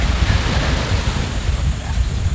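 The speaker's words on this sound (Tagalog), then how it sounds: "papakita ko sa inyo yung dagat" Sea waves wash against the shore in a steady loud rush, mixed with heavy wind buffeting the microphone, a close and constant churning roar.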